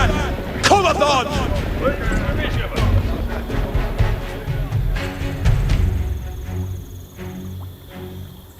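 Booming cannon blasts and rumbling explosions in Age of Empires 4's Normandy campaign, amid game effects and chatter, heavy thuds repeating irregularly before tapering to a lower rumble.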